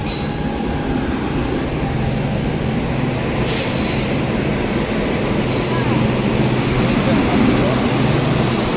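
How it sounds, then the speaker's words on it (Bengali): The Delhi Express passenger train rolling into a station, a loud, steady rumble of wheels and carriages with a brief high squeal partway through, heard close up. "আমাদের দিল্লি এক্সপ্রেস এসে গেছে।"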